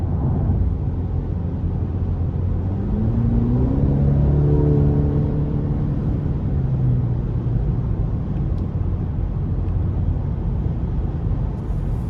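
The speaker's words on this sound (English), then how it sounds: "I love how this 2-liter turbo pulls along with this 10-speed automatic" A 2023 Cadillac CT5 Sport 2.0-liter turbo engine pulls smoothly through a 10-speed automatic, heard from inside as a steady rumble with a rising then falling engine tone midway and no talking.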